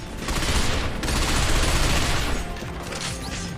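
Dense, sustained gunfire roars in the third-person shooter Binary Domain, a loud, unbroken barrage of overlapping shots and booms with no speech.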